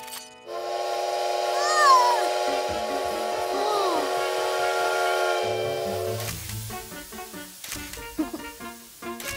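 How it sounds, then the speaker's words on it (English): A cartoon steam train whistle blows in long, bright tones, followed by the chugging and clanking of a train, with some background voices. "A train!"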